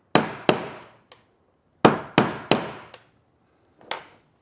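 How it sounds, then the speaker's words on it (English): Hammer blows flatten sharp crimped electrical connectors under the driver's seat of a Ford Transit: sharp, ringing metallic strikes close by, two early hits, then a quick run of three and a lighter tap or two at the end. "So the hammering I'm doing is I'm just flattening out these places where the crimp got sharp."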